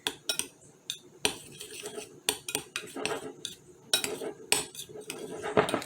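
Dry ingredients for low carb bagels being mixed in a bowl, heard as repeated close clinks and scrapes of a utensil against the bowl in an uneven, busy rhythm, no speech.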